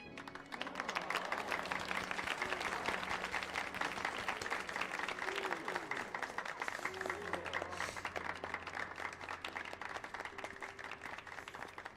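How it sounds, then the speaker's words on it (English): A crowd of characters applauding in the Final Fantasy XIV video game, a dense, steady patter of many hands clapping for about twelve seconds, with a little background music under it. "Why do they all clap so high?"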